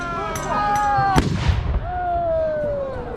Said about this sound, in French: c'est un tir de canon qui retentit